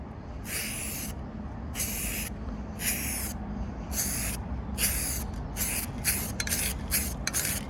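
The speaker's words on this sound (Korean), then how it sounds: "박자를 맞춰가면서 칠하면은 골고루 분사를 시킬 수가 있습니다" Cheap lacquer spray paint can sprayed in a steady rhythm of about ten short hissing bursts separated by brief pauses, close and fairly loud, with no talking.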